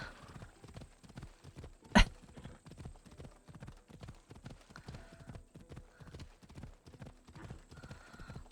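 Horse hooves clip-clop steadily in a video game, a regular walking rhythm of close, crisp hoofbeats repeating throughout, broken once by a sharp loud burst near the middle.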